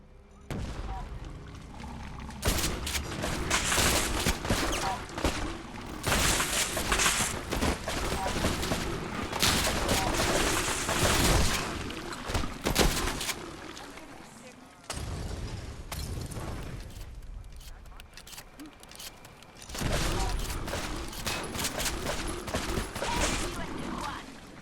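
Sustained gunfire and explosions roar through a battle in Fallout 4's Far Harbor expansion, loud and dense with brief lulls near the middle, voices shouting over the barrage.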